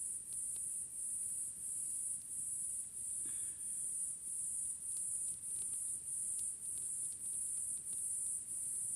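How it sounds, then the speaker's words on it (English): Crickets chirp at night in a dark rainforest, a steady high pulsing trill repeating in even bursts, moderately faint against a soft background hiss. "You can hear the crickets."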